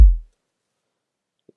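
A single deep, punchy kick drum sample with no fade, a sharp attack that decays within a fraction of a second, followed by silence and a tiny faint blip.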